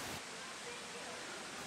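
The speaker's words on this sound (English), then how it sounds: "Come with us to the top of the waterfall." Steady rushing water from a waterfall, heard from close by at the top of the falls, a continuous broadband roar with no breaks.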